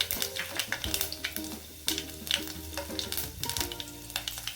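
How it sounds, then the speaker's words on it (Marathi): Continuous crackling sizzle of seeds and garlic spitting in hot oil, steady and close, with brief clinks of a utensil against the pan. "तेल गरम झाल्या एक चमचा मोहरी घालणार आहे आपण त्यात आपली मोहरी मस्तपैकी तडतडली आहे"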